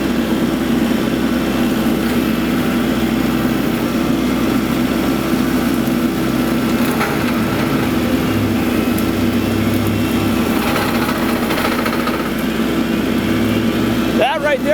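A hydraulically driven loader-mount mower on a tractor runs steadily and loudly throughout, its engine drone and cutting hum continuous with a brief change near the end; a voice speaks over it at times.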